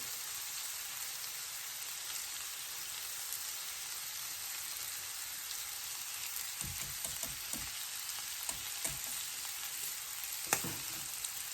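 Shrimp being stirred in a pan on low heat for Cajun-style shrimp and grits. A faint, steady frying hiss runs throughout, and a few soft utensil scrapes come in the second half, quiet and close.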